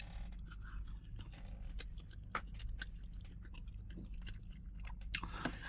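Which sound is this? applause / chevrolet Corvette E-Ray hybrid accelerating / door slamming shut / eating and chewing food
eating and chewing food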